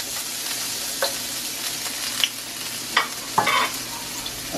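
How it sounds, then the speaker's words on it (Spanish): Garlic and ginger frying in a hot pan for chow mein, a steady sizzle broken by several sharp clinks and scrapes of a utensil stirring, close and alone without talk. "Vamos a poner el ajo y el jengibre."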